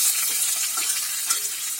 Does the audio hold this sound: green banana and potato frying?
yes